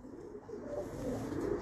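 Pigeons coo in a low, steady murmur that swells slightly toward the end, with no voices over it.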